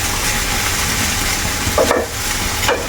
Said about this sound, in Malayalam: സോയാബീൻ വറുത്തെടുക്കാം